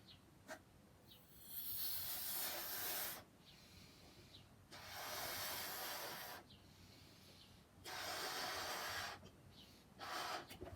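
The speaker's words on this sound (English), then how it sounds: "The first thing you have to do is blow up your balloon." Breath-driven air hisses into a cheap dollar-store balloon in four or five bursts of a second or more each, separated by short pauses, close and fairly quiet.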